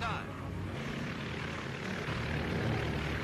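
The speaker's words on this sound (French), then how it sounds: "le S-20 Mercury lance ses moteurs, se sépare du S-21 et finit le parcours" Propeller engines of the Short S-20 Mercury seaplane drone and rumble steadily, a continuous loud roar that holds level throughout with no break, heard as the upper component of a composite flying boat separating from the S-21.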